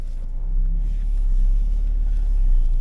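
Campervan Pepper pulls away onto a road: a steady low engine rumble that swells slightly as it gets moving, close and continuous with no talk.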